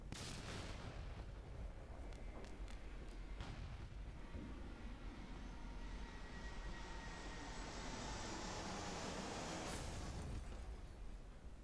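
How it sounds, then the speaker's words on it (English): Roaring, rumbling aircraft noise from the video game Dawn Break as a plane is tossed around, a steady loud wash with low booms and a few sharp crackling bursts near the start and later. "That plane's getting tossed around like anything."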